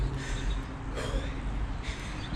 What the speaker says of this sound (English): You can hear me panting.